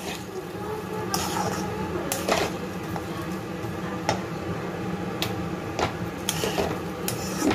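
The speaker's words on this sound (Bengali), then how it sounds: "ভালো করে নাড়িয়ে নাড়িয়ে সুন্দরভাবে চার সাইড দিয়ে নিয়ে" Rice being stirred in a cooking pot for basonti pulao, with soft scraping and occasional sharp clinks of a spoon against the pot over a faint sizzle, close and fairly quiet.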